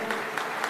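An audience at a French political speech claps steadily throughout, a brief, fairly quiet burst of applause heard at some distance.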